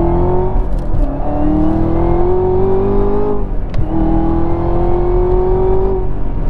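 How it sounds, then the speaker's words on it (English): A 2018 Camaro ZL1 1LE accelerates hard onto a highway, its engine note rising loud and close through one gear, dipping briefly at an upshift, then climbing again steadily. "This thing accelerates extremely well."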